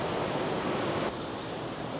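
Strong rushing water and waves break against rocks in a loud, steady roar, with wind buffeting the microphone and no voices present.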